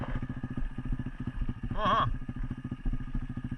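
SSR 125cc pit bike engine fitted with a NIBBI carburetor, running with a steady low, pulsing beat and a brief rising rev burst midway, one voice briefly heard over it.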